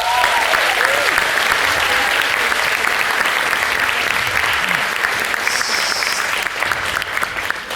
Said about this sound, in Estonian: Palju õnne, teeme talle ühe aplausi!